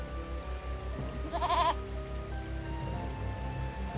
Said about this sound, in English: What are goats doing in a place like this?